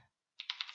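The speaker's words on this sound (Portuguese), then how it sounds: "Para isso nós vamos digitar" A few quick keystrokes on a computer keyboard, close and quiet, clicking in a short burst after a moment of silence.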